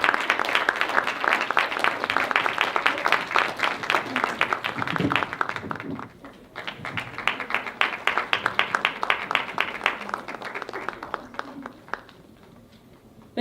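Audience at a women's excellence awards ceremony in Singapore clapping, dense and sustained, dipping briefly midway and resuming before tapering off.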